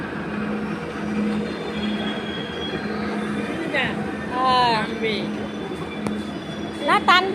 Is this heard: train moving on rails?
yes